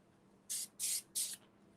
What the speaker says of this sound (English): I am going to spray to make sure that stays intact